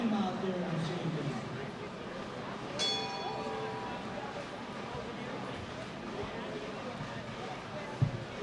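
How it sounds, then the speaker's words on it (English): A single bell rings once to start a bowling competition, bright and brief amid steady crowd murmur in a large bowling center, with an announcer talking over the background. "at the sound of the bell, you may begin your event"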